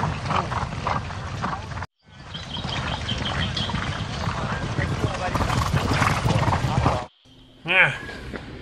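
Horses clip-clop close by in a lively outdoor scene, hooves rattling steadily under busy background noise, with a brief neigh near the end after a short gap; people's voices are mixed in.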